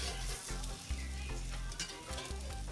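An omelette fries in a pan with a steady, close sizzle and occasional clatter, with no talking.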